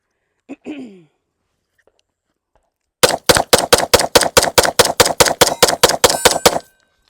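A long, fast string of about fifteen loud, sharp gunshots from Beretta 92XL Squalo and Taurus PT 92 pistols rings out close by, evenly spaced, after a brief whisper and then a pause.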